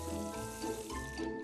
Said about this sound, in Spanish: asegúrate de cerrar la canilla.